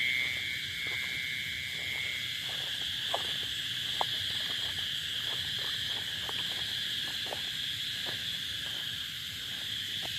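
Steady nighttime chorus of narrow-mouthed frogs and insects, a dense continuous trilling drone with faint clicks scattered throughout, no voices.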